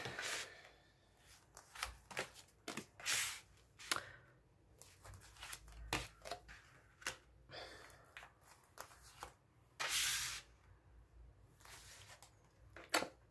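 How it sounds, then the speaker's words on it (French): Tarot cards being shuffled by hand, with repeated soft riffles and brushing bursts in an irregular rhythm, close but fairly quiet. "je remélange un coup et après, j'étale les cartes"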